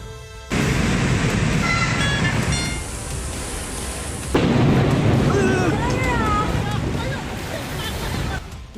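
Roaring storm noise in China, with heavy wind and rain-like rushing that swells partway through. Whistling, wavering tones ride over the din, and a voice talks over it.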